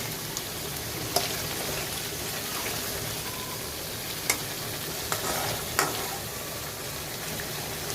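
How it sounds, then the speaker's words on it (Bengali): Fish pieces and fish tail sauté with spices in a pan, giving a dense, even sizzle throughout, close and fairly loud, with occasional spatula clinks and scrapes. "মাছ ও লেজা দিয়ে মশলা দিয়ে কষিয়ে নিলাম"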